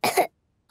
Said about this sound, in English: And Monkey has a cough.